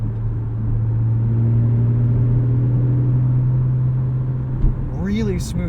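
A Porsche Cayman flat-six engine drones at a steady low pitch from inside the cabin, a strong continuous hum that holds even throughout, while people talk over it.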